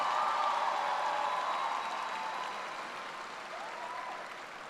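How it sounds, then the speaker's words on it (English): A high school commencement audience applauds the valedictorian and salutatorian. The dense clapping from a large crowd starts strong and slowly fades, somewhat distant and reverberant. "Give him a round of applause"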